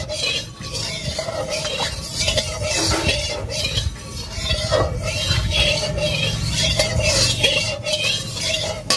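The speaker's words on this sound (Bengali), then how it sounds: "তো সরষের তেলটা একটুখানি গরম হয়ে আসুক, ততক্ষণ তেলটাকে আমি একটু নাড়তে থাকি।" Mustard oil heating in a pan is stirred continuously with a utensil, giving a steady scraping and faint clinking over a low hiss, close and fairly loud throughout.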